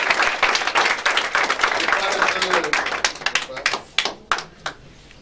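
A church congregation claps and applauds loudly together, dense and fast at first, thinning into scattered separate claps by the end.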